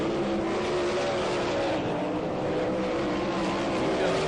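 360 sprint race cars roar continuously through a qualifying heat, a loud, dense engine drone with shifting pitch as several cars run together, steady and unbroken across the clip.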